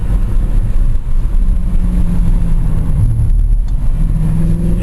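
A Mercedes C63 AMG engine rumbles low and steady while the car drives through a decreasing-radius corner, with a brief drop in pitch as the throttle eases, heard loud from inside the cabin.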